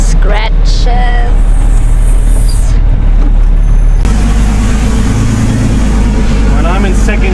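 A Unimog camper's engine drones loud and close while descending a steep outback track in second gear with the exhaust brake engaged, a heavy continuous rumble with a sudden shift in tone partway through.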